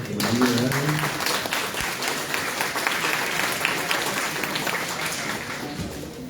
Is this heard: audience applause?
yes